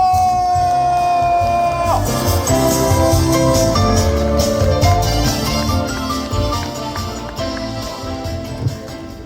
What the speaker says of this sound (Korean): 여러분 함성과 박수가 필요합니다